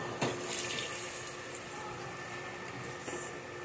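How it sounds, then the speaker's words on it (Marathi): Hot boiled water pours into a pot of chicken pulao rice, a soft, steady splashing stream close by that runs alone for a few seconds. "आता आपण याच्यामध्ये टाकू गरम पाणी."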